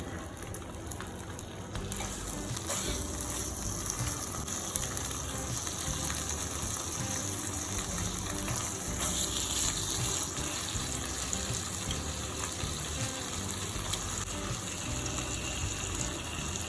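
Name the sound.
strips of bacon sizzling in a pan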